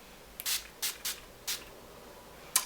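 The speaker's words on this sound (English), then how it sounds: "Sometimes I like to spray a little bit of Urban Decay setting spray just over that" Urban Decay setting spray misted over a made-up face, five short hissing spritzes in an uneven rhythm, close and fairly quiet with no talking.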